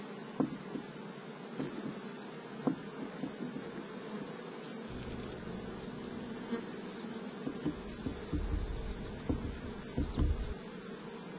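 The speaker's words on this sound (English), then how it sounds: "Oh look, there's a bee sticking his head in there." Bees buzz around an open beehive with sealed, capped honey frames, a soft continuous drone with a few closer buzzes passing, and no voices.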